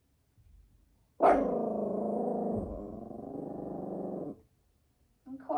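A dog growls in one sustained, rumbling stretch of about three seconds during a yoga session, loud and close, then falls silent before another short burst at the end.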